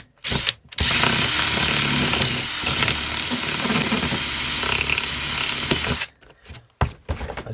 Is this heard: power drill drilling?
yes